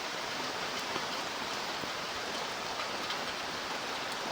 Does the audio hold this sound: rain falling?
yes